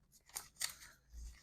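Tarot cards shuffled by hand close up, giving two quick crisp riffling snaps followed by a softer rustle, with no talking.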